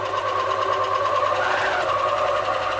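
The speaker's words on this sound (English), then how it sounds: "I'll thread the machine up and I'll show you it sewing." A serger overlocker runs steadily while sewing fabric, giving a continuous, fast mechanical whir and rattle at constant loudness throughout, up close and with no talking.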